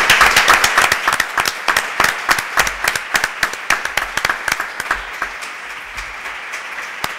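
Audience applause at a photography round-table discussion: dense, steady clapping from a room of people, close and continuous, gradually thinning toward the end with no speech over it.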